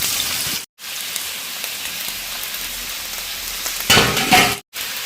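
Boiled meat pieces fry in hot oil with a loud, continuous crackling sizzle, broken by a brief pause and then a sharper, busier burst of spitting.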